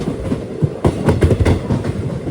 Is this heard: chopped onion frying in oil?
no